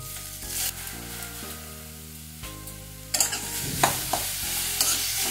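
Squeezed grated radish for a chechki hits a hot wok, stirring and frying noises building over sustained background music, with sharper scraping bursts in the last two seconds.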